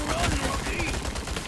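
Rapid gunfire in a Resident Evil 4 Remake game battle on Hardcore difficulty, dense repeated shots over loud game music and commotion, with no break across the moment.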